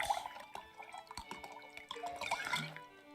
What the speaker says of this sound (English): Pour me a large glass.